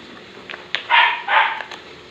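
A dog gives two quick, loud barks close by, preceded by a few softer yips.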